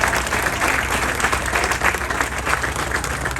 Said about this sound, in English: You deserve a big round of applause.